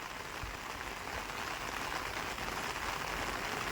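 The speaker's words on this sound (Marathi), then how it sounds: "आपण आत्ता पाऊस येलो आहे बघा" Rain falls steadily in a Konkan village after a Ganpati immersion, an even, close hiss of drops on surfaces with faint low thumps underneath and no talking.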